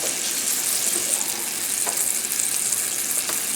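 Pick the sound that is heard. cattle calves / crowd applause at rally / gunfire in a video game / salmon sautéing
salmon sautéing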